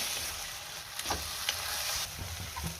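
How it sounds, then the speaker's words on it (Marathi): Masala and tomato paste sauté in hot oil for misal, a steady close sizzle broken by a few scraping stirs of a spoon in the pan, with no voices. "आता आपल्याला ह्यामध्ये टोमॅटोची पेस्ट घालायची आणि पुन्हा 2 ते 3 मिनिटं चांगलं परतून घ्यायचंय"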